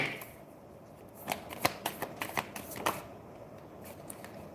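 Tarot cards are shuffled close by in a quick burst of crisp riffling snaps after a quiet start, then fall still again.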